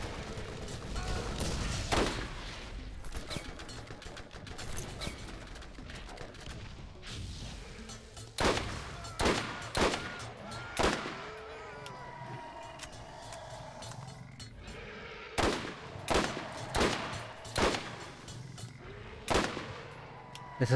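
Sniper rifle shots and bursts of gunfire in the video game Borderlands 1, loud sharp cracks repeating in quick clusters over a steady ambient game rumble, with no talking.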